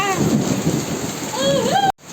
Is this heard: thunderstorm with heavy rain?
yes